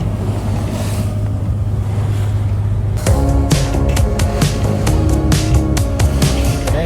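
Motorboat running through moderate sea waves off the Norwegian coast, a steady engine drone with rushing wind, then sharp splashing and thumping as the hull strikes the chop, loud and close.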